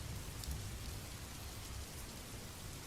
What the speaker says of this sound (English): It was still raining, but no one wanted to leave.